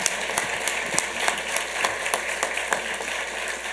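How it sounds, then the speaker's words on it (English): A small crowd at a Santa Ana city council meeting gives a round of applause, with scattered, fairly sparse claps over a steady hall background. "let's do one final round of applause for the Suavecito Prom Sweepstakes"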